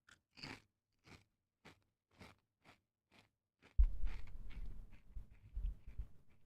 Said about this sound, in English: I bet that chewing is annoying.